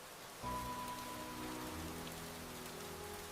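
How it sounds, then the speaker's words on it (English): Steady rain patters on a surface from a short pause onward, a constant close hiss of drops with no voices. "The rain is good for our new seeds."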